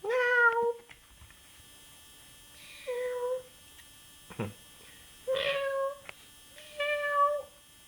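A voice mimics a cat, producing four separate nasal meows spaced a second or two apart over a faint background hum, with a brief thump in between.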